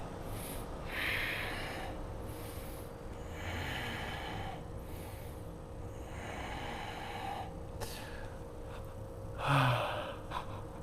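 Slow, audible inhales and exhales during a seated yoga twist in a strong flow class, soft close breaths recurring every few seconds with one sharper gasp near the end.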